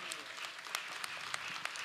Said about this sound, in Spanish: un aplauso para los señores